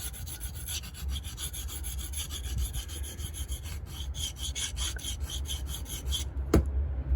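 A knife is sharpened on a stone with steady, continuous close rubbing and rasping strokes, ending in a sharp tap near the close; nobody speaks.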